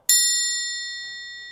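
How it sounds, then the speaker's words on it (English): A single bright triangle strike rings out clearly and alone, its high metallic shimmer sustaining and slowly fading over more than a second. "That's a triangle."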